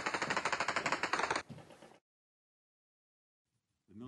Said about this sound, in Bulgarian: Изтеглянето на Съединените щати беше отбелязано и с изстрели във въздуха.